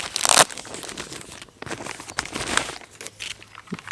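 Sony WH-CH510 headphones being unwrapped from a plastic bag sealed with ordinary tape, with a loud burst of crinkling and tearing plastic followed by softer, intermittent rustling close to the microphone.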